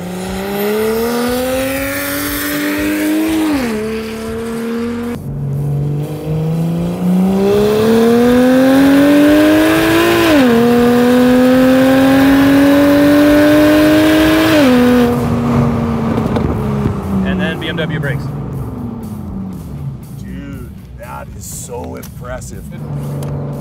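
Chopped and widened 1949 Ford body on a BMW platform with a 62 mm turbo, engine revving up and down in repeated rising pulls, loud and close, with people talking over it.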